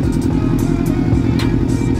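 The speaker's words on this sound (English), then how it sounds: "We're gonna give you a little clip of them both running right next to each other" Two Subaru WRX engines idle side by side, close and loud, making a steady, throbbing low rumble with a regular pulsing beat and no talk over it.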